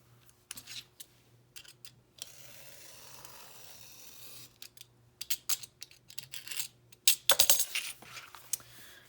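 Scissors snipping paper while trimming card stock for a Halloween card, a run of short crisp cuts in irregular bursts at close range, growing busier toward the end, with no talking.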